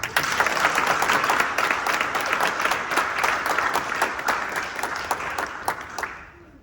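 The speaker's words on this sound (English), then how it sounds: "let's give him a round of applause" A school audience of Hellhounds claps together in a lively burst, loud and crisp at first and gradually thinning out until it stops near the end.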